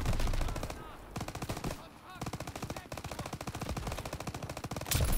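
Gunfire in the Call of Duty WWII D-Day campaign on Xbox One, sustained rapid machine-gun bursts with brief pauses, loud and continuous across the battle scene, with a voice calling out over the shooting.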